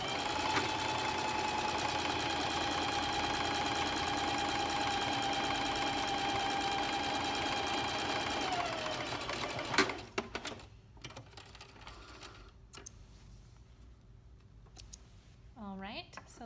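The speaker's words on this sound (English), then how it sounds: "I'll be sewing my hem down along an edge" A sewing machine edge-stitches a hem with an edge stitch foot at a 1/8 inch edge, running steadily and close for about nine seconds before stopping, followed by quieter handling sounds.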